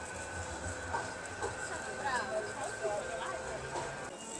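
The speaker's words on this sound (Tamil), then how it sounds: "ட்ரெயின் போகுது" A train rumbles past somewhere in Manchester, a faint, steady rolling clatter heard under nearby talking.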